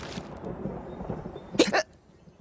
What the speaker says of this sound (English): This ends up giving him the hiccups.